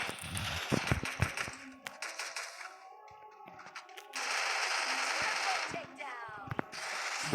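Automatic and single gunfire in the Free Fire Clash Squad mobile game, heard as loud rapid bursts of shots with brief pauses, followed by a long sustained blast of game noise and some faint speech underneath.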